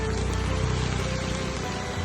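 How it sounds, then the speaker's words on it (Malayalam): Heavy monsoon rain pours down in a steady, dense, unbroken hiss that stays loud and even throughout, with no voices. "അങ്ങനെ മഴയുടെ താണ്ഡവം"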